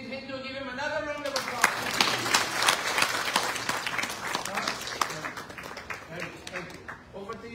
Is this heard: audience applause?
yes